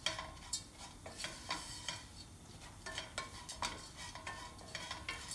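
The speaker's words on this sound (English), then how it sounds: "Kind of toasting the Orzo pasta here" Orzo pasta toasting in a pan for peas and rice, with repeated scraping stir strokes and light clinks of a utensil against the pan over a soft background sizzle, close and steady, no talking.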